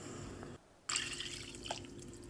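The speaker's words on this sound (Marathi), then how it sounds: "पाणी टाकताना जेवढं आपण तांदूळ घेतले त्याच्या दुप्पट पाणी टाकायचं." Water splashes into a pan of soaked rice for pulao, a brief gap before a bright pouring gush that settles into steady liquid filling sounds, close by.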